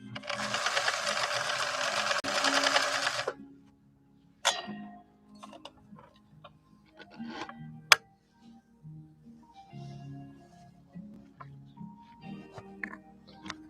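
A 1964 Viking Husqvarna 19E Special sewing machine stitches a blind hem at maximum width and length, giving a steady, fairly loud mechanical whir for about three seconds, then stopping. Soft ticks, clicks and handling noises follow.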